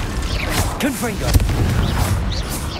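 A Confringo blasting spell cast in the video game Hogwarts Legacy, heard as a sharp burst with a brief boom and fizzing crackle amid ongoing game effects and background noise.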